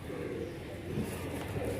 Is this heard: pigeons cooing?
yes